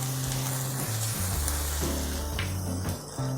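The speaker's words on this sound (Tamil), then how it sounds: "இப்போது வெங்காயம் இந்த அளவுக்கு வதங்கி வந்திருக்கு." Onions sizzle steadily as they sauté in a pan for paneer butter masala, a continuous close frying hiss with a low background tone in between.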